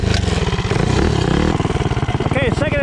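A motorcycle fitted with an Autolite racing spark plug accelerates from 0 to 30 mph, its engine loud and close with a pulsing throb that climbs in pitch as it revs.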